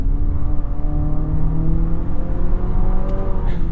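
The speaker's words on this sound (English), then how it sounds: "It takes a while for the downshift to happen, the turbo to build boost, the motor to get to the right situation, and then it's not very refined sounding either." A 2025 Nissan Murano's turbocharged engine pulls hard from about 40 mph, a loud, rising drone with climbing harmonics that builds steadily over road noise, with no talking.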